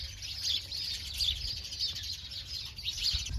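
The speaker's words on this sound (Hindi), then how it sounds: "देख इस बाड़े में कितनी चिड़िया चैं करी" Many small birds chirp and twitter continuously in a village enclosure in the morning, a busy overlapping chorus over faint low background noise.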